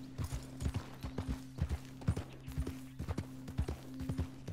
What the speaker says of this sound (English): We get on the horse.